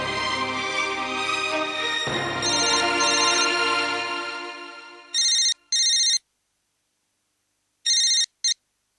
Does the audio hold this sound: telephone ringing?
yes